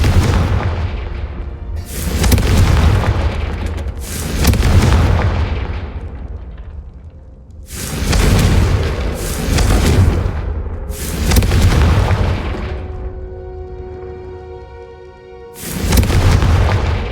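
Repeated Confringo spell explosions in Hogwarts Legacy, about six heavy booming blasts spaced a second or two apart, loud and close, each with a rumbling low-end tail.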